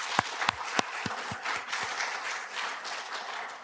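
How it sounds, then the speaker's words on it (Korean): Church congregation applauding, a sustained wash of many hands clapping at moderate distance, opened by a few sharp louder claps and continuing steadily without speech. "미래 세대를 위해서 우리가 더 크게 격려의 박수 보내주시기를 바랍니다"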